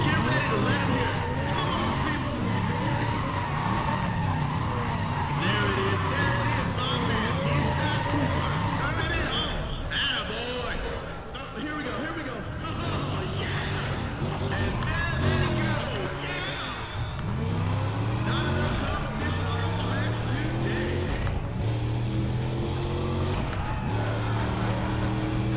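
Race car engine in the Need for Speed ProStreet video game, revving and shifting continuously with steady rising and falling engine tones throughout, under a player's talk.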